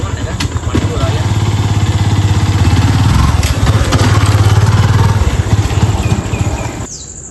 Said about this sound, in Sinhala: බයික් එකක් තියනවා බඩ